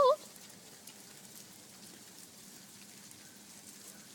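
Hail falling outside, a dense, steady patter of pellets striking surfaces, continuous and fairly distant, after a brief loud exclamation at the very start.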